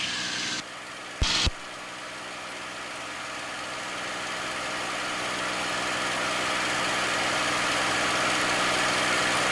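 A P-51 Mustang's piston aircraft engine roars steadily during a climb, a broad loud drone that slowly swells in intensity after a brief dip and click near the start.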